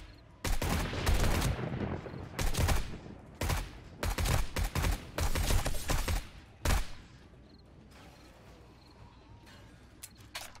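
Video game gunfire in 7 Days to Die Alpha 20, loud sharp bursts and rapid volleys firing in clusters for about seven seconds, then stopping into quieter ambience.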